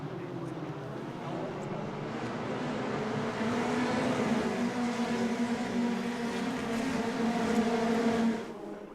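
A field of 32 Formula Renault 2.0 race cars in a race, their engines a steady, distant roar that swells and fades as they pass, with a commentator talking over it.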